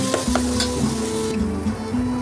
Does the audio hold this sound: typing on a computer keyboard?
no